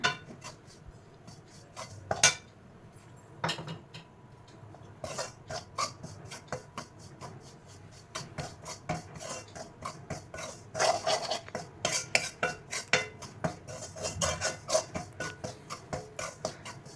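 Ragi flour is dry-fried on low heat in a pan while a spoon stirs and scrapes it, producing repeated close clinks and scraping taps in an irregular rhythm.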